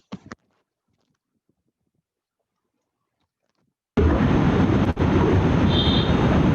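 Wind buffets a microphone on the Brooklyn waterfront in a steady, loud roar that begins suddenly after a stretch of near silence and holds with one brief dip.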